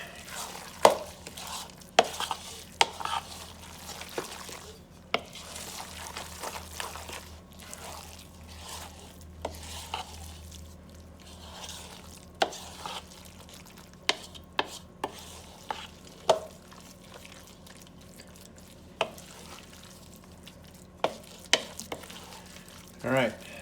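Lasagna cheese sauce being stirred and mixed in a bowl, with soft scraping and squishing strokes repeating irregularly under a faint steady background hum, close and fairly quiet.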